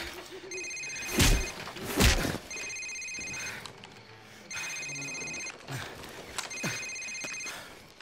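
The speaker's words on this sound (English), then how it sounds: "Sir, it's his cell phone." A cell phone rings in Call of Duty 4, its bright electronic trill repeating in four bursts across the scene, with thumps and brief game sounds between the rings.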